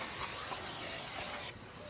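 Brake cleaner from an aerosol can sprayed onto a Mini Cooper S R56 brake disc coated in grease residue, a loud, steady broadband hiss lasting about a second and a half before cutting off sharply.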